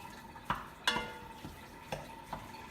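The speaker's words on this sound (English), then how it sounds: "I'm just gonna break off the meat and mix the ingredients" Hamburger meat seasoned with pepper is broken up and stirred in a frying pan, with a few sharp utensil scrapes and knocks against the pan over a low, steady sizzle.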